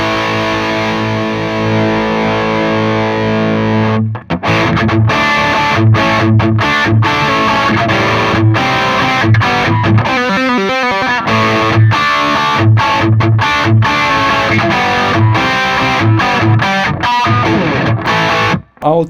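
Electric guitar through a Two Notes Le Lead preamp, heavily distorted. Sustained chords are followed by choppy palm-muted riffs and staccato stabs, loud and close, with no voices.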